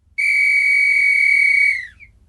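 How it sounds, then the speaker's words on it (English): One sharp, piercing whistle blast, loud and sustained for nearly two seconds before trailing off with a brief chirp. "blew a sharp blast on the whistle."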